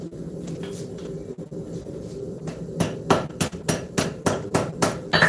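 A hammer forges metal on an anvil in a shop, quiet at first, then a rapid run of about a dozen ringing, evenly spaced strikes close by.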